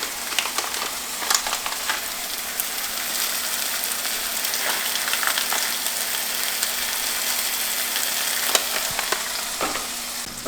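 Mushrooms frying in a pan for vegan ramen, a steady close sizzle with scattered crackles and pops running throughout, no voices.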